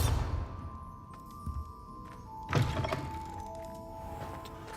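A Bombarda spell in a Harry Potter video game goes off with an initial burst, then a sharper explosive crack midway that tails into rumbling debris, while faint tones and ambient hum continue.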